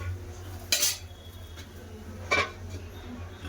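A metal lid is set down on a pan of fish curry with potatoes and pointed gourd: two distinct, close clanks about a second and a half apart, over a steady low background hum.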